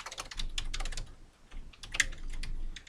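Rapid, steady typing on a computer keyboard, close and clear, bursts of quick keystrokes with brief pauses and no voices.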